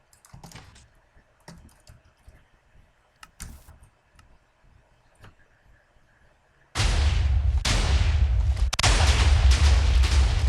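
A TNT cannon in Minecraft fires: a run of soft clicks and small pops, then a sudden loud sustained roar of stacked explosions that stays dense and heavy to the end.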